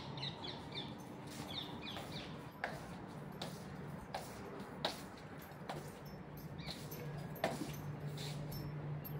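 Scattered bird chirps and short calls ring out over a steady outdoor ambient hum in Beersheba, Israel, irregular and moderately distant, with no one talking.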